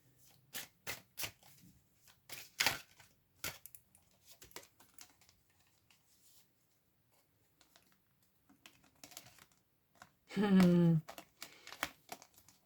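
Tarot cards being shuffled by hand to draw one more card, a brief burst of riffling near the end amid scattered soft taps and card handling, with someone speaking at times.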